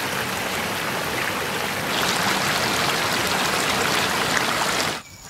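River water flowing over rocks on land near Veracruz, Mexico, a steady, close rushing hiss that swells slightly midway and cuts off abruptly near the end.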